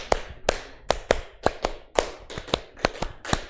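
Around a dozen crisp group hand claps ring out in a steady counted rhythm during a classroom lesson, each one a sharp, close slap.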